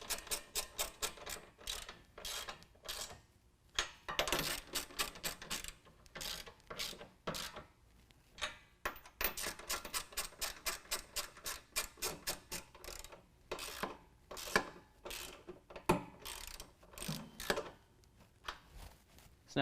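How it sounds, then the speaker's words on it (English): A 13 mm ratchet tightens flange nuts on hoop step brackets of a 2019 Ram 1500, rapid close clicking in repeated bursts separated by short pauses and occasional clanks. "We're going to use our 13mm to tighten down all of our flange nuts."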